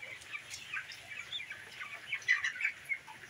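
Chickens cluck and murmur softly on a small mini farm, a faint scatter of calls that rise slightly toward the end.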